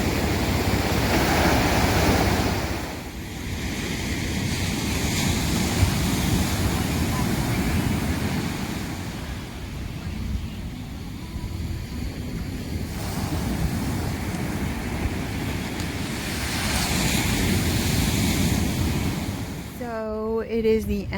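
Ocean waves roll and wash ashore at 1,000 Steps Beach in California, a continuous broad surf roar with wind buffeting the microphone and swells rising and falling over about twenty seconds.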